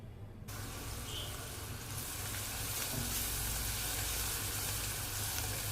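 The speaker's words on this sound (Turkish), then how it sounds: "Soğan ve unun kokusu çıkana kadar, soğanlar pembeleşene kadar kavuralım." Onions and flour sautéing in a pot for Ottoman-style lentil soup, giving a steady broadband sizzle that runs without pause and grows slightly fuller partway through, close and fairly loud, with no talking.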